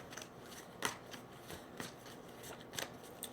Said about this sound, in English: I'm laying out 9 cards still